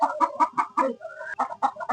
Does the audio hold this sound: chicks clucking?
yes